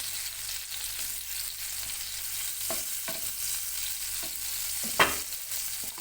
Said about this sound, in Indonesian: Ini kita lelehkan dulu margarinnya ya